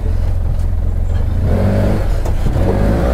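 An Arctic Cat Wildcat Trail XT side-by-side drives along with a loud, close engine drone that rises as it accelerates.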